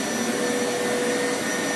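Hoover Power Scrub Elite carpet washer running, a loud, steady, close-up motor roar with a constant whine, heard alone.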